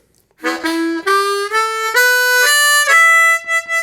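A harmonica plays a short minor-key pentatonic phrase of sustained, reedy notes stepping upward, clear and close, with no voices.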